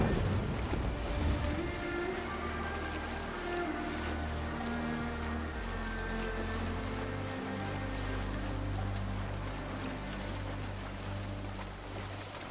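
A Viking longship under sail on open sea in Assassin's Creed Valhalla, with a steady rush of wind and waves washing against the hull, a continuous moderate roar with no talk.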